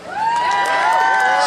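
An outdoor crowd in a town square at Comber Fair cheers and whoops for a band, a loud sustained roar of voices with some applause mixed in.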